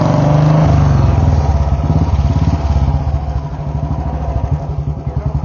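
Close and loud, a 2008 Royal Enfield Bullet Standard 350 fitted with a modified silencer runs with a rapid thudding exhaust beat that slows into distinct, spaced thumps toward the end.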